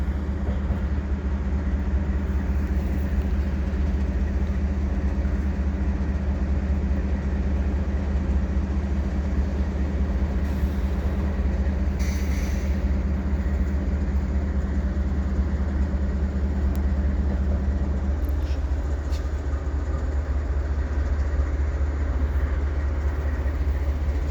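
A stopped CN freight train locomotive idles at Dorval Station in winter, a loud steady low diesel rumble with a constant drone that drops slightly near the end, with no voices.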